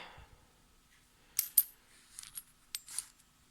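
Metal coins clinking inside a coin pouch, several short bright jingles and taps in a quiet room, close and crisp with pauses between shakes.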